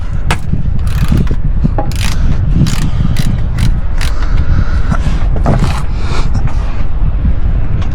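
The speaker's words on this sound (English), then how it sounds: "Go ahead, remove the 3 bolts from my starter." A ratchet socket wrench, fitted with a 15 mm socket, works the bolts loose from a car starter, giving loud, dense clicking and metallic ratcheting that goes on through the whole stretch against steady mechanical background noise.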